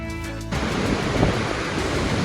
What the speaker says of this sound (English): So here we're at the top of the waterfall Goldbox.